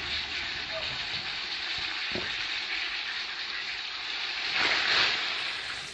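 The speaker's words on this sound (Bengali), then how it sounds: "তো চলো এবারে আমি এক এক করে কড়াইয়ে পটলগুলো দিয়ে নিচ্ছি" Slices of pointed gourd (potol) sizzle and fry steadily in hot oil in a kadai over low heat, a constant crackling hiss with a few soft clinks and a slight swell near the end.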